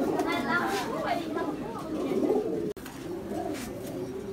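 High flyer pigeons coo in low, rolling bursts that keep going alongside steady background chatter, with voices talking over them the whole way.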